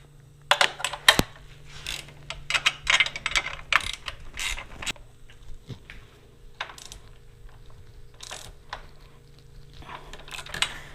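A Honda Grom's 12 o'clock handlebar bolts are tightened by hand, a close run of quick ratcheting clicks in short bursts separated by brief pauses, with no voices.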